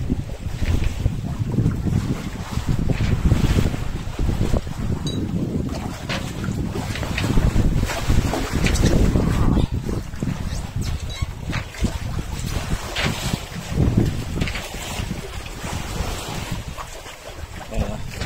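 Sailboat under way at sea in the Bay of Biscay, with steady, rough wind buffeting and the wash of water against the hull rising and falling throughout, loud and continuous with no voices.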